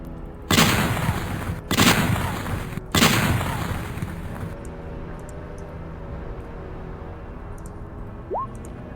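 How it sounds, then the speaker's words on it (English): Three loud gunshot blasts ring out in quick succession as a sound effect during a tabletop role-playing session, each one booming and then trailing into a long fading echo, followed by quiet background. "All right, you hear more gunshots."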